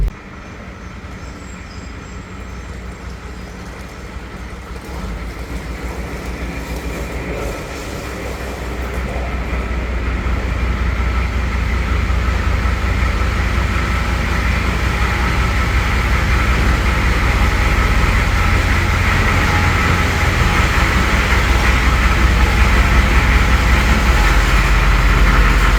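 International Cargostar truck with a 6.9 IDI diesel engine driving, a deep steady rumble with a constant droning hum that grows louder after the first few seconds and then holds.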